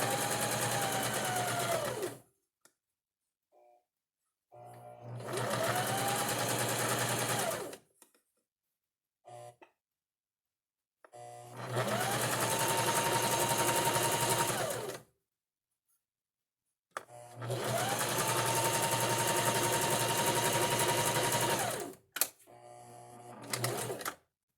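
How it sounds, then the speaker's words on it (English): Sewing machine hemming knit fabric with a narrow rolled hem presser foot, running in four loud sustained bursts of a few seconds each, separated by quiet pauses with small handling clicks, near and with no voices. "Now I'm hemming the front overlay. I'm using a narrow hem or rolled hem presser foot."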